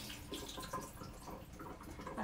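Water pours and splashes steadily as soaked chickpeas are drained for hummus, a close, continuous wet rush with small trickling bursts and no talking.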